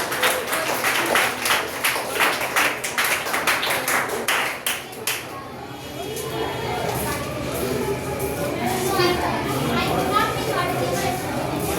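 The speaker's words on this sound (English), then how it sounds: "Give us stand up clap for him." Students at a school assembly clap for a classmate from Standard 6, a burst of close, rhythmic hand claps over the first five seconds that fades into crowd chatter and murmuring.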